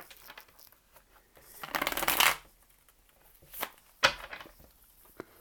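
A Witch's Tarot card deck is shuffled close by in quiet surroundings, with one longer riffle, a couple of short card flicks and some light handling sounds between them.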